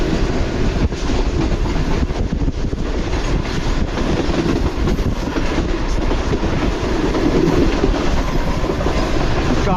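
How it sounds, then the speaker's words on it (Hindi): Tezgam express train running at speed through Shujabad railway station, a loud continuous rumble with rapid clickety-clack of wheels over rail joints and wind buffeting, heard from on board. "तो शुजाबाद रेलवे स्टेशन को स्किप किया है ट्रेन ने काफ़ी अच्छी स्पीड में।"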